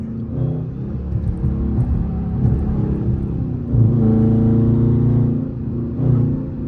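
A Dodge Charger R/T with a loud exhaust drones and rumbles steadily from inside the car, swelling into a heavier, louder surge of revs partway through, with no talking.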